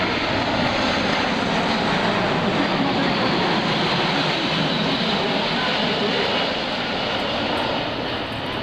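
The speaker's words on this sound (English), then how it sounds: "They're going to turn the airplane around" Loud, steady roar of a C-17 Globemaster III's engines nearby as it taxis and turns, a constant broadband rumble that eases slightly toward the end.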